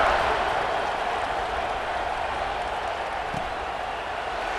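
A large football stadium crowd cheers with a broad, steady roar that holds evenly throughout, sounding distant and wash-like with no distinct voices.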